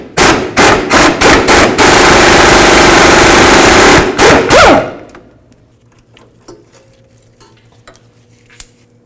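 An upper sway bar link nut on a 1999-2007 Ford F250 is removed with a loud, close power tool buzzing in bursts, rattling on and off before a long continuous run. The noise stops abruptly, followed by quiet with faint clicks and shuffling.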